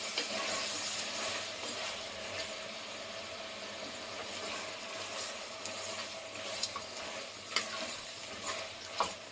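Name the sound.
chilli powder frying in a pan on low flame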